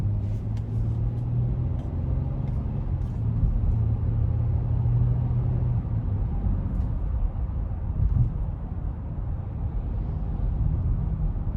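A steady, loud low rumble fills the cabin of a 2022 Honda Pilot EX-L AWD with a naturally aspirated V6, driving at an even pace with road and engine noise that continues throughout.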